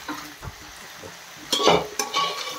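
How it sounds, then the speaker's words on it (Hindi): Quinoa is stirred and mixed in a pan: a spoon scrapes and taps against the metal in short, uneven strokes over a soft sizzle, close and fairly loud, with no talking. "ये देखिए, ये मैं इसमें इसको मिक्स कर रही हूँ।"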